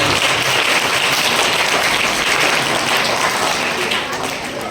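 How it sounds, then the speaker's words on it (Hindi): Loud, dense applause from parents and teachers at a school cultural programme, a continuous wash of clapping that holds steady and eases off slightly near the end. "जोरदार तालियां"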